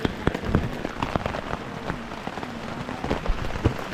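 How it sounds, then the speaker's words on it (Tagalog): Heavy rain pours on Mt Mantalingahan in Palawan near a tarp campsite, a steady dense hiss with scattered sharper drops and pops throughout, loud and close. "Umulan na nga guys, malakas."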